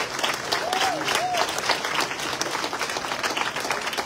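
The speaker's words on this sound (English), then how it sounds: "Let's give them a big round of applause." An outdoor crowd at a Memorial Day parade opening ceremony gives LAPD and LA Fire Department first responders a full, sustained round of applause, with a couple of brief whoops rising above the clapping.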